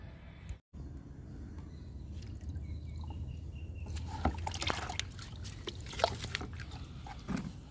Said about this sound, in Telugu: ఇప్పుడు వాటర్ ఇచ్చేద్దాము ఈ 2 మొక్కలకి